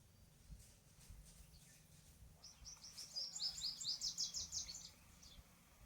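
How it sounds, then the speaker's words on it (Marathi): Small birds chirping among native trees, a quick run of bright twittering calls rising mid-clip, close and clear over a faint outdoor hum. "तुम्हाला त्याचा जर बारीक आवाज येत असेल बघा पशुपक्ष्यांचा."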